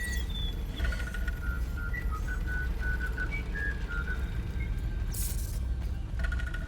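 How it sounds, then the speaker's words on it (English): A person whistles a short, wavering melody of bright rising and falling notes over a constant background hum, with a brief hiss partway through. "Whistle as you work."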